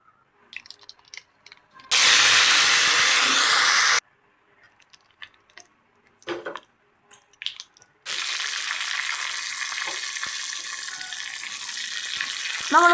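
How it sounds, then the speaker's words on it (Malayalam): Mustard seeds dropped into half a spoon of hot oil in a small pan for tempering, giving bursts of loud sizzling and crackling with faint clatter between them, close and without talk. "അതിലേക്ക് 1/2 സ്പൂൺ എണ്ണ ഒഴിക്കാം. അതിനകത്ത് 1/2 സ്പൂൺ കടുകിടാം."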